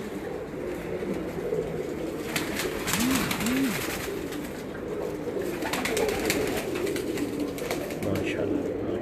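Pigeons on a rooftop loft give a couple of soft, rolling coos against a steady outdoor background, fairly faint and not close.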